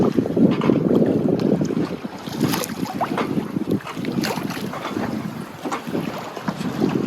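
Calm rolling sea washes and laps against the hull of a sailboat under sail, with continuous close, fluctuating water swishes mixed with wind buffeting the microphone.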